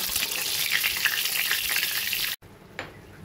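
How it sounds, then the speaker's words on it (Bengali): Pointed gourd pieces frying golden in oil over medium flame, a loud dense sizzle close by that stops abruptly, then a quieter hiss with a brief clink. "হালকা সোনালি করে পটলগুলোকে আমি ভেজে নেব"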